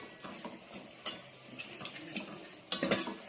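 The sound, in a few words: stirring pigeon pea curry in a pan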